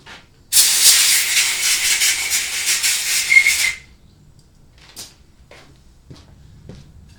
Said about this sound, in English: I like to use a little bit of compressed air